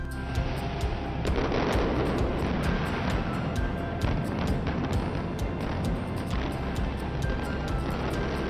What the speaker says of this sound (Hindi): इस भव्य उद्घाटन के अवसर पर एक विशेष आतिशबाजी का आयोजन भी किया गया।